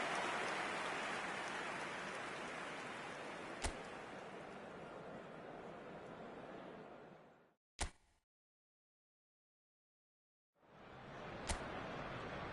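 Rain falling in an eFootball match, a steady hiss of downpour that fades, drops out briefly after a sharp click, then returns with occasional faint ticks.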